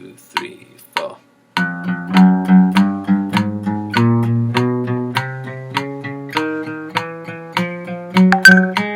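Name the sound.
acoustic guitar finger exercise, two notes per beat, alternate picking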